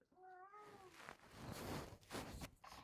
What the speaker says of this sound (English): So I don't know if you can hear my cat